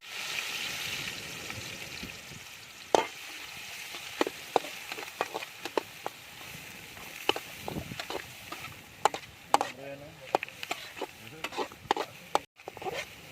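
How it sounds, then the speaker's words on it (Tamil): Onions frying in hot oil in a pan while making a snake gourd and egg fry, with a steady sizzle under repeated sharp clicks and scrapes of a spatula stirring. No one speaks. "எண்ணெய் சூடாகிடுச்சு. வெங்காயம் போட போகிறேன்."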